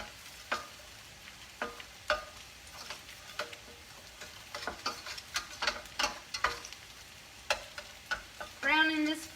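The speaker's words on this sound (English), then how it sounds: "Browning this flour." Half a cup of flour browning in a frying pan still greasy from fried pork cutlets, stirred and scraped with a flat spatula: irregular close scraping strokes over a faint sizzle, ending in a brief squeaky rattle.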